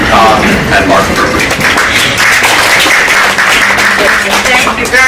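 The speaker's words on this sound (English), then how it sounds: "please give a round of applause to our founders, Ruth Kahn and Mark Furr" An audience applauds the founders at a festival preview reception in a yacht club. The clapping is loud and dense, forming a steady wash of noise that lasts the whole moment.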